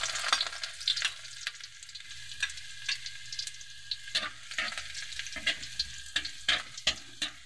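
Garlic fries in hot oil for Filipino spicy adobo sa gata, with a steady crackling sizzle and repeated sharp stirring scrapes and pops, close and alone.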